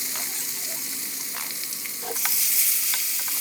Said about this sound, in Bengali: ওই তেলের মধ্যে আরেকটু তেল দিয়ে জিরা ফোড়ন দিয়ে পেঁয়াজগুলো দিয়ে দিচ্ছি আমি।